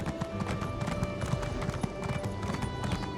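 Horse hooves clip-clop in a steady trotting rhythm as a rider travels in The Elder Scrolls Online, quiet and even beneath a soft music bed, no talking.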